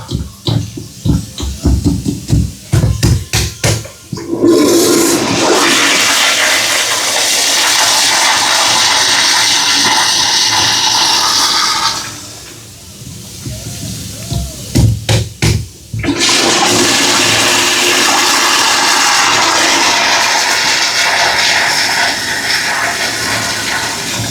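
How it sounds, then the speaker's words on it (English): A toilet with a faulty flush valve flushes loudly, a long rushing roar of water that briefly drops away, then surges back into a sustained hissing flow, after clunky handling noises at the start. "Let's flush the toilet again."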